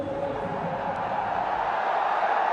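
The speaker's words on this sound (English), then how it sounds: "Terrific crowd here today." Steady roar of a large cricket stadium crowd at Motera during an India versus Australia World Cup quarter-final, a dense continuous wash of distant voices and cheering, unbroken for a few seconds.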